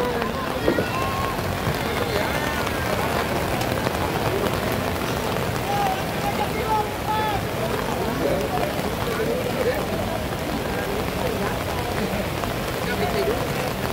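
Heavy rain falls during an amateur football match at a cup tournament, a steady broad hiss filling the scene while a commentator talks over it and faint crowd sounds come and go.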